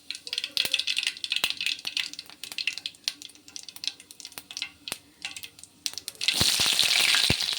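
Cumin and mustard seeds fry in hot oil in a kadai, giving close, sharp crackles and pops in irregular bursts. Near the end a dense, loud sizzle takes over.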